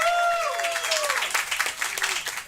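Comedy showdown audience clapping for a comedian, a dense patter of applause with a few whoops rising over it, gradually thinning toward the end.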